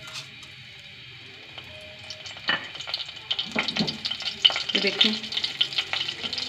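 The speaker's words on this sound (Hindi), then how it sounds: "कितना प्यारा फ्राई हो रहा है।" White cumin seeds and curry leaves sizzle and crackle in hot oil, the frying growing louder and busier as they are stirred, with a brief spoken word.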